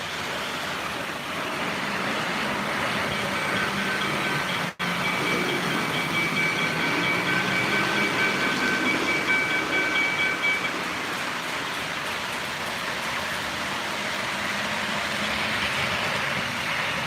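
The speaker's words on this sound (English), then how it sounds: "while those trains are running" O gauge model trains run continuously on track with a steady rolling rumble and rattle throughout, and faint tonal whine for part of the time.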